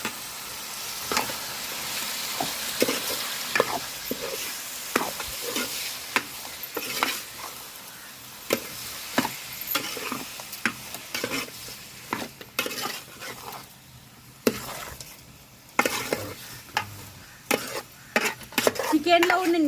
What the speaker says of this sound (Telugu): ఇప్పుడైతే కలుపుకుందామండి.